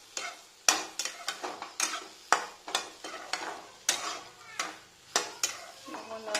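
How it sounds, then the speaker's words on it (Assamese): A spoon stirs soy chunks with turmeric, chili powder and masala in a frying pan, making repeated sharp scraping strokes in a steady rhythm over a soft sizzle, close and fairly loud. "ইয়াত হালধি জলকীয়া গুড়ি মছলা দি পেলাই এইখিনি নিউট্ৰেলাখিনি দি দিলোঁ তাৰপিছত লৰাই দিছোঁ"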